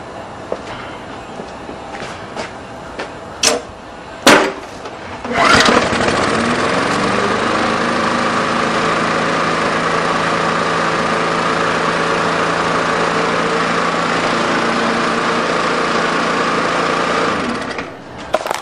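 A Briggs and Stratton lawn mower engine being repaired is prepared with a few clicks and knocks, then catches on a single pull and runs at a steady, loud, close drone for about twelve seconds before cutting off.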